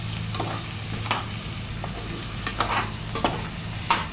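Vegetables with capsicum frying in a pan for pulao, stirred with a few sharp scraping strokes over a low steady sizzle, close and fairly quiet.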